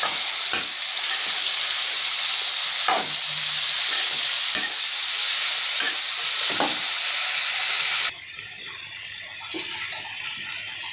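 Bitter gourd sautés in a hot pan for a bitter gourd kootu, a continuous sizzle broken by several sharp scrapes and knocks of a spoon against the pan as it is stirred.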